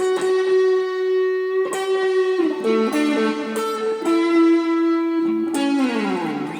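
Clean electric guitar phrase, played through chorus, delay, tremolo and reverb, with a string of sustained, ringing notes changing every second or so and echoes trailing behind, loud and alone.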